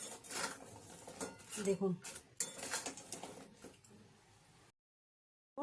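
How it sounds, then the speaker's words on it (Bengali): Fried gaja sweets being stirred through sugar syrup in a metal pan, with repeated scraping and clinking of a spoon against the pan, close and busy, under a brief spoken word, ending in silence. "ভালো করে নাড়িয়ে ছাড়িয়ে নেব, সব গজার মধ্যে যাতে লেগে যায়।"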